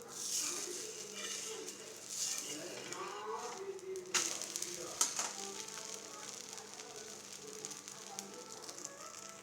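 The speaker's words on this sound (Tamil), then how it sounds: "கொஞ்சம் ஆயில் விட்டுக்கலாம் நல்லா தோசை வேகட்டும்" Egg dosa cooking in oil on a hot pan gives a steady, moderate sizzle with a few brief clicks and scrapes, and a voice can be heard at moments.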